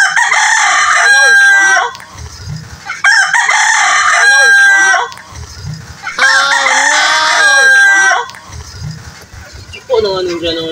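Several roosters crow loudly in long rising calls, one after another, with hens clucking in between and some voices in the background.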